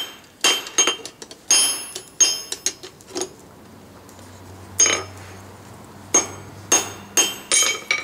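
Hand hammer striking a steel awl being forged to a taper, a series of sharp ringing metallic blows in uneven clusters with short pauses between, close and loud.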